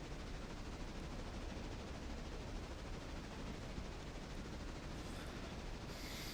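A locomotive in a lumber and mineral railroad video game rumbles along steadily and loud, a dense continuous rolling roar with faint rhythmic clatter throughout, no voices.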